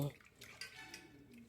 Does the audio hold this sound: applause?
no